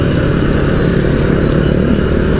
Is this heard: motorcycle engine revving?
yes